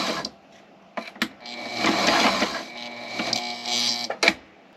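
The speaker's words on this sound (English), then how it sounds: "I want to get enough out to where I can get a little bit of forward and back sewing started." A sewing machine stitches forward and back on a boat window sunshade, with short runs of close mechanical whirring and clatter between quiet pauses and light handling knocks.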